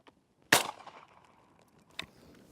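One sharp shotgun blast from an Aguila mini shell, outdoors at a shooting range, cracks close and loud and trails into a short decay, followed by a fainter distant report.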